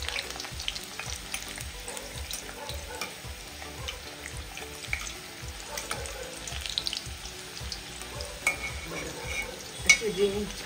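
Bitter gourd (karela) pieces fry crisp in hot oil with a steady, dense sizzle and bubbling, plus occasional stirring clinks, continuous and close throughout.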